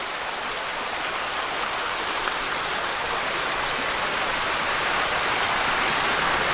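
Steady broadband rushing of Tom's Creek in the Delaware Water Gap, constant and fairly close, heard from a trail alongside, with no voices.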